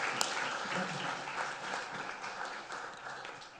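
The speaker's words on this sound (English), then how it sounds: "And let's give him a round of applause." An audience applauds presenter Ryan at the close of a university capstone presentation program: a faint, steady patter of many hands that carries on evenly for several seconds.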